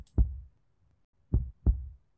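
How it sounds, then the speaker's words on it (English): Pounding heartbeat sound effect from a horror video game: three deep, muffled thumps, one alone and then a close pair, with silence in between. "I can feel my heart pounding against my chest."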